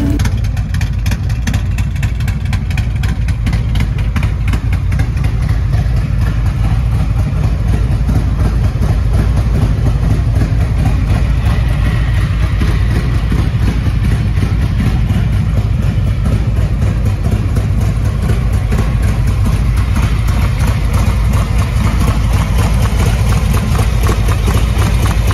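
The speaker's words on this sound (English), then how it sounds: "You can definitely hear that 468 cam talking to you." Close and loud, a 2023 Harley-Davidson Street Glide 114 bagger running a Zippers 468 cam holds a continuous choppy V-twin idle, an uneven pulsing rumble that stays steady for the whole stretch with nobody speaking.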